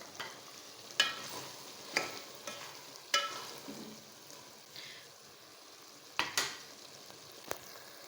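Green onion and coriander being stirred into sizzling tori and chana dal in a pan: a steady soft sizzle with a handful of sharp spoon scrapes at irregular intervals, close and without talk.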